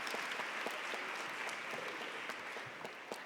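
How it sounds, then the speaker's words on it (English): A crowd at a holiday breakfast claps steadily, a dense spatter of hand claps held at an even level throughout and tapering slightly at the end. "let's give them a round of applause"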